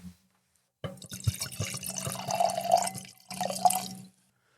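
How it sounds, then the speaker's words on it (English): Kosher wine pours into a glass, a close gurgling trickle that runs for a few seconds, pauses briefly, then resumes before stopping. "please pour yourself a glass of wonderful kosher wine."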